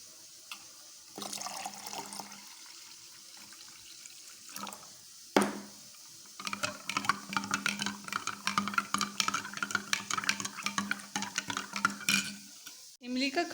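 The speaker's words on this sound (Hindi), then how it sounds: "और इसमें ठंडा पानी डालेंगे।" Cold water splashes into a tamarind and sugar mixture for golgappa pani and is stirred in a bowl, with intermittent pouring and clinking, swirling sounds.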